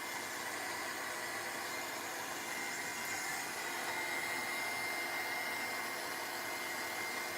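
Hair dryer or heat gun drying paint on a steampunk egg craft project, a steady close whooshing blower noise running unbroken throughout with no talk.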